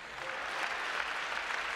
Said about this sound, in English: Y'all clap for the left side.